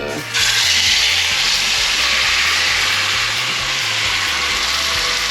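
Pork hits hot oil in a small pan, and a loud, steady sizzle starts abruptly and hisses on continuously from close by.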